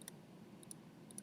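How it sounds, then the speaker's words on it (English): A computer mouse clicks faintly and sparsely, three small pairs of clicks spread over a quiet background while a digital shadow is drawn. "And I'm just going to start kind of clicking in and drawing a shadow."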